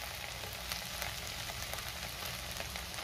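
A potato and okra bhaji with fresh coriander stir-fries in a pan, making a steady low sizzle throughout with faint stirring under it and no voices.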